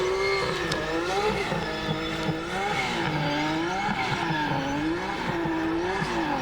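Drift car at the D1NZ Drifting Championship qualifying at Hampton Downs, the engine loud and close, revving up and down in repeated waves, with squealing tyres skidding throughout.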